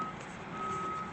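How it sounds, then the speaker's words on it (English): A construction crane beeps steadily and continuously, a pure repeating warning tone heard at a moderate distance over low outdoor background rumble. "There's a crane that is beeping."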